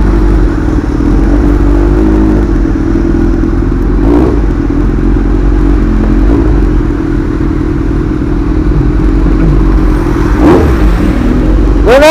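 Kawasaki Versys 650 motorcycle with an open exhaust pipe at a muffler shop, rumbling loudly and steadily close by, with a couple of sharp throttle blips rising and falling near the middle and end.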